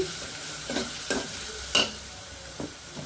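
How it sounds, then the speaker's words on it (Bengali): A curry spice base for catfish sizzles in a pan with a steady frying hiss. Several distinct stirring scrapes break through it, up close and with no talking. "শিং মাছের জন্য আমি তরকারি কষিয়ে নিব, সেই কষানি বসেছি।"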